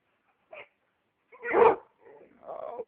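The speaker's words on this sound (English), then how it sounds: "Bark, Coco" A dog nearby gives a short yip, then a louder bark followed by a couple of softer, whiny barks, with silence between them.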